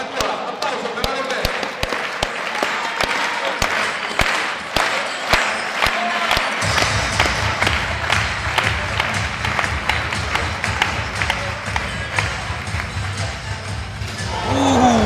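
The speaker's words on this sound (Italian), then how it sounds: "applauso per Aaron" Crowd applause for a contestant named Aaron Best at a finale, with sharp rhythmic clapping that swells into dense, sustained applause and cheering, while a voice speaks over it.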